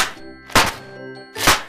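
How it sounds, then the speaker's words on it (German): Christmas crackers popping in a cartoon Christmas dinner scene, two loud punchy thunks about a second apart, each a short broadband burst over a soft musical background. "Hier sind Knallbonbons."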